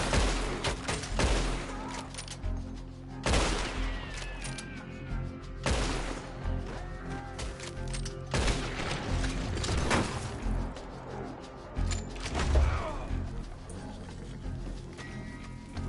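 Gunfire in a Red Dead shootout: repeated loud gunshot cracks and bursts at irregular intervals over roughly sixteen seconds, with a horse and other action noise mixed in and no talk.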